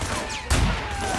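A single sharp gunshot cracks out midway through a gunfight in the video game Sleeping Dogs, close and punchy over steady background game ambience.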